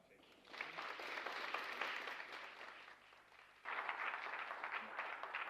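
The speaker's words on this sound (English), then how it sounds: "I want another round of applause" Audience round of applause at a Hispanic Heritage Month keynote, many hands clapping at moderate distance, easing midway and then swelling back up with renewed vigor.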